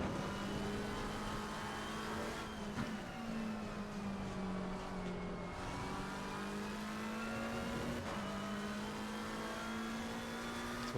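Race car engine in Assetto Corsa Competizione running at full speed with a steady, loud drone, the pitch dipping as the car brakes into turn one and then rising again, continuous throughout with no talk.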